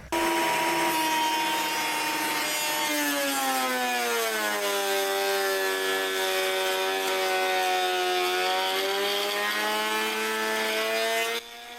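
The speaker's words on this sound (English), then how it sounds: "Let's clean up the sides with the planer." A planer cleans up the sides of an end-grain wooden cutting board, giving a loud, steady motor whine whose pitch drops as the blade bites into the wood. It runs continuously for about eleven seconds, then cuts off abruptly.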